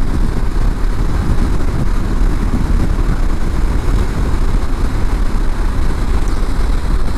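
Motorcycle engine on a test ride along a rural road, a constant loud low rumble with dense wind buffeting and no letup, close and steady throughout.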